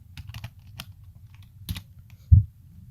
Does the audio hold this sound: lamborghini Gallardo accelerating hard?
no